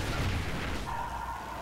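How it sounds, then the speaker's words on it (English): Deep, rumbling explosions fill the soundscape of a Call of Duty Ghosts team deathmatch online multiplayer round, a dense, continuous roar of blasts and battlefield noise with no voices. "The explosions are just too loud."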